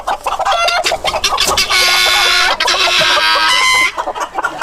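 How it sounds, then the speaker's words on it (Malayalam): Native country chickens and a rooster on a Kerala farm cluck loudly and close by, with overlapping squawks and a drawn-out call in the middle, and no talking. "ഈ കാണുന്നത് നാടൻ കോഴികളാണ്, നാടൻ പൂവനാണ്."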